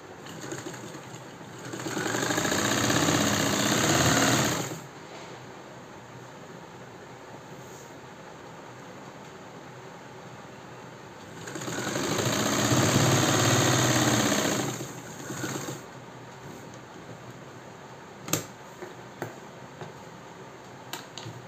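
An electric sewing machine stitches the neckline of a three-piece princess-cut katori blouse, running in two steady bursts of about three seconds each with a pause between, then a few light clicks as the needle is lifted and lowered.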